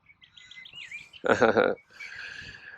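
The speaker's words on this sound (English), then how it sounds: "What kind of bird is this, by the way?" Bird chirping in short high tweets, with a burst of louder sound in the middle and more chirps after it.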